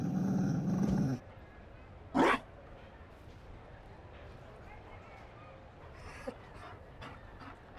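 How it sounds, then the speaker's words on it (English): A Mabari war dog in the Dragon Age Inquisition video game pants and growls, a short loud burst followed by softer breathy sounds amid game ambience, with brief game speech at the start. "You found a dog?"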